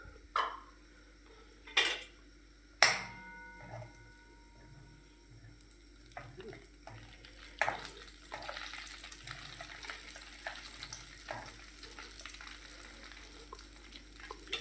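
Asafoetida and vegetables stirred in a pan of hot oil for a green chickpea curry: a few loud metallic clanks of utensil on pan at first, then a soft continuous sizzle with scattered scraping, no voices.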